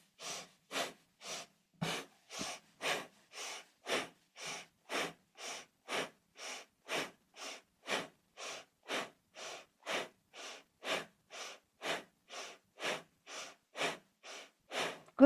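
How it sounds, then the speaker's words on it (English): Deep rhythmic breathing during a kundalini yoga kriya: evenly spaced, forceful breaths, roughly two per second, close and clear against near silence, with no talking. "Remember to breathe."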